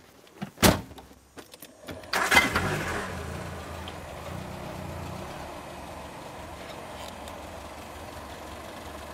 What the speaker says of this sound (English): It just starts right up, George.